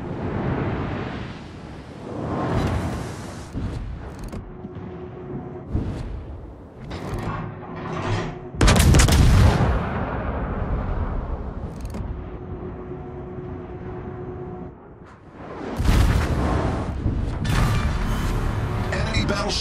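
Naval gunfire and explosions as a battleship is sunk in the World of Warships video game: heavy booms and rumbling blasts, loudest in two big bursts, with mechanical noise and a voice speaking in between.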